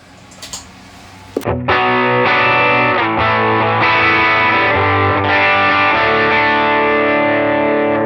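A brief click of a Timmy overdrive pedal, then an overdriven electric guitar kicks in with thick, crunchy sustained chords, loud and close, with no talking.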